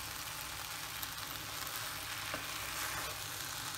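Aviyal, the Kerala vegetable dish, stirring and frying in a pan over a low flame, with a dense even sizzle throughout and faint soft stirring beneath it.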